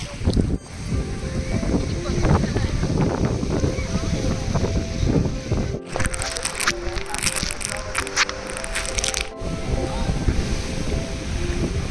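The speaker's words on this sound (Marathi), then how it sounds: "चरणाजवळ येत आहे पाणी अगदी." Sea waves wash up close around the feet at a breakwater, a continuous rushing surf heavily buffeted by wind on the microphone, with people talking over it.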